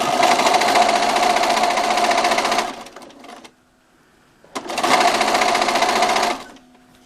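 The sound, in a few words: sewing machine stitching quilt binding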